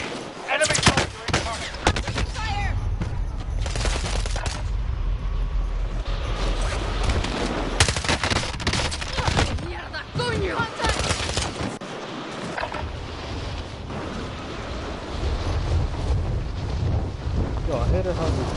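Dense, loud video-game gunfire from a PS4 shooter, sustained bursts of automatic and rapid shots that keep overlapping and roaring steadily for the whole stretch, with no pause.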